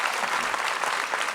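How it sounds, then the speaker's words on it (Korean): Church congregation applauding to welcome the pastor at a Korean worship gathering, a dense, steady wash of many hands clapping close and loud throughout, with no voices over it. "Please welcome him with a big round of applause"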